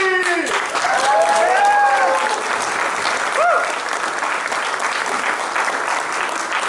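An audience claps steadily to welcome the MC at a celebration in New Zealand, dense sustained applause with a few voices and cheers rising briefly early on.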